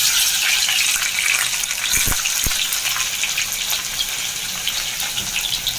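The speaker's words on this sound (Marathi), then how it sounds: "कांदा मस्त फ्राय करून घ्यायचा आहे" Onions fry in a hot pan for veg biryani, giving a loud, continuous watery sizzle with a couple of sharp knocks of a utensil against the pan partway through, no speech.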